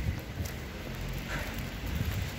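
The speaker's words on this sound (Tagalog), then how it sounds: "Lumakas na naman yung patak ng ulan. Lumakas na naman patak ng yelo." Rain mixed with ice pellets patters steadily on a jacket and surroundings while someone walks outdoors, a continuous close crackling hiss with rumbly wind and footstep noise underneath.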